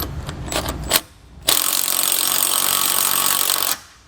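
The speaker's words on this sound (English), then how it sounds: "Same size socket, we'll tighten these down." Socket wrench working the bolts on a Blue Ox TrackPro weight distribution hitch with sway control: a few quick ratcheting clicks, then a steady, loud grinding run of metal on metal lasting a couple of seconds before it stops.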